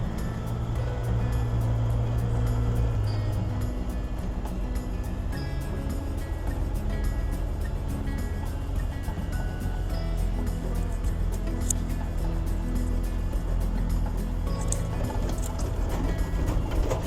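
A Cummins diesel-powered Chevy truck with a manual gearbox drives along under a learner driver, its low engine rumble and road noise steady and loud throughout.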